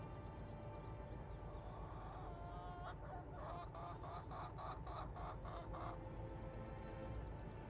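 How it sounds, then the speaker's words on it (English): Chicks and a hen clucking in a video game, a busy stretch of rapid chirps and clucks over a steady ambient bed, loudest in a burst of repeated calls mid-clip. "There's chicks."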